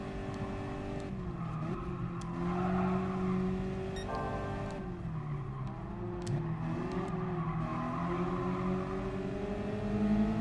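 A race car engine in the video game Gran Turismo Sport revs and holds a steady drone, pitch rising and falling through gear changes, with brief tire squeals and a higher whine near the end.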